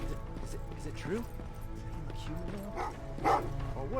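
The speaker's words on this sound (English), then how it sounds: "Well, what's with the dogs?" Dogs barking in the video game Terminator Resistance, several short barks and yips spread across the clip, moderately distant, over background game ambience and talk.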